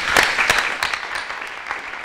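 Audience at a TV talent show in Trinidad and Tobago breaks into applause, a loud burst of scattered clapping that gradually thins out.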